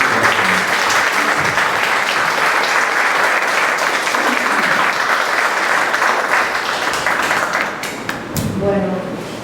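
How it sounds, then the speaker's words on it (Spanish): A crowd at a lecture on northern danzón gives strong, sustained applause, a loud dense wash of clapping that keeps going for about eight seconds before thinning slightly. "vamos a recibirla con un fuerte aplauso."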